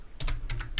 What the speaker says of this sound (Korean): 910으로 타이핑 엔터.